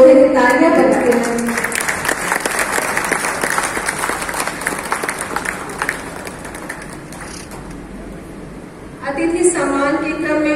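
Audience clapping steadily at a press club swearing-in ceremony in Gorakhpur, a dense sustained patter through most of the stretch that thins out near the end before a voice returns.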